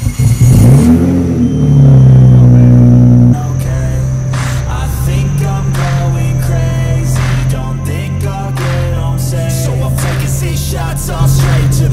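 A Triumph 675 motorcycle engine runs steadily in a garage, a loud continuous mechanical drone with an early rev swell, then a settled idle broken by sharp clatter and knocks throughout; no voices.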